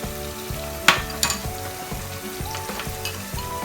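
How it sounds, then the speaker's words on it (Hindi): Garlic-ginger powder, black and white pepper, roasted cumin, salt, almond, cashew and gram flour powders roasting in a pan for white chicken korma, with a steady close sizzle and repeated scraping stir strokes, plus a couple of sharp utensil clinks. "इन सबको भूनते हैं। 2-3 मिनट इसको मज़ीद भूनते हैं सब चीज़ों को डाल के।"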